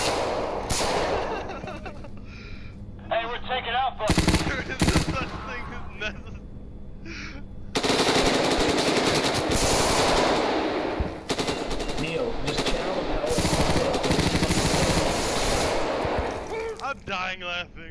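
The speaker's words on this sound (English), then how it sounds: "You don't have to shoot them like 87 times." Loud automatic gunfire from the video game Insurgency rattles in long sustained bursts, close and dense, broken by short pauses, while voices talk over parts of the fighting.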